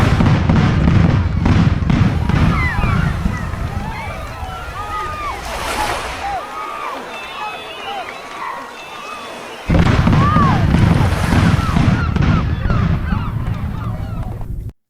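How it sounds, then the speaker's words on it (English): Bronze cannons of a Portuguese fleet fire horizontally at water level in a naval battle against Indian Ocean vessels; loud booming blasts over surf and crowd noise, with a quieter lull midway before the roar resumes. "Portuguese bronze cannons fire horizontally. at water level."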